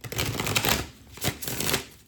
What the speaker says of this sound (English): let's keep even doing some shuffling